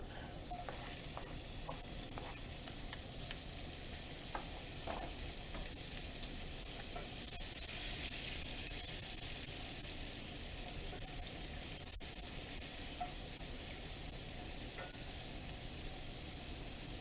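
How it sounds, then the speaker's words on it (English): Peppers, mushrooms and onions sauté in a hot pan, giving a steady, close, continuous sizzle and crackle with occasional stirring scrapes and no talk. "Dump in our peppers, mushrooms, and onions."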